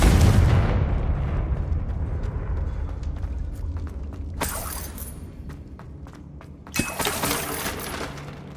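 A Confringo explosion spell in Hogwarts Legacy bursts loudly at the start and rumbles away slowly, followed by two sharper crackling impacts later on, no talk.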